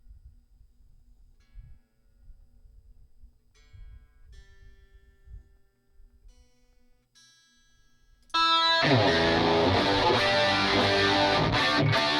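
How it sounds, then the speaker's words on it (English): Quiet low rumbling and faint plucked notes, then a loud, dense burst of electric guitar through a Line 6 HX Stomp with distortion all the way up kicks in and sustains to the end. "I'm going to keep the distortion all the way up"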